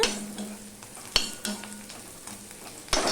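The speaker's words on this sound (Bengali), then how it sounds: "রসুন পেঁয়াজটা ভালো করে ভাজা হয়ে গেছে" Garlic and onion frying in a pan, a steady close sizzle broken by several sharp scrapes and clinks of a spatula stirring them, with no voices.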